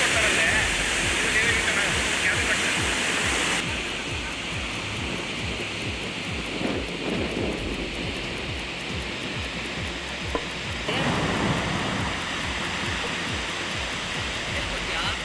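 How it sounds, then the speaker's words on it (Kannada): The Sharavathi river rushes at full volume after water is released from the Linganamakki dam, a dense, continuous roar of heavy flow, near and loud, with faint voices of onlookers mixed in. "ಡ್ಯಾಂನಿಂದ ಅಪಾರ ಪ್ರಮಾಣದ ನೀರು ಹರಿದು ಬರ್ತಾ ಇದ್ದು"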